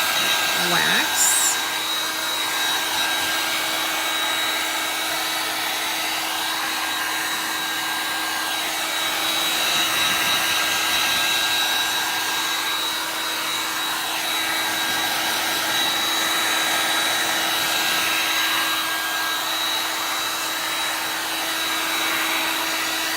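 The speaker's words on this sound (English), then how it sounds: "heat gun here. Just dry." A heavy-duty heat gun blows steadily at close range while drying an etched pumpkin, a loud continuous whooshing hum with slight shifts in airflow as it moves, alone throughout.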